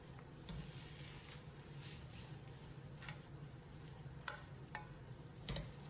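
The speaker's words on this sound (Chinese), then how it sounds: "继续简单翻炒扒拉1、2下" Rice noodles stir-fried with beef and egg in a hot wok, giving a steady low sizzle throughout with a few sharp scrape and toss clicks from the spatula, moderately quiet and close, no talking.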